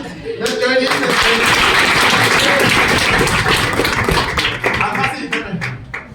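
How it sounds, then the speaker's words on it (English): Students at a school clap together in a dense burst of applause that swells and holds for several seconds, with voices talking over it, then thins to scattered claps. "Can you clap for yourself?"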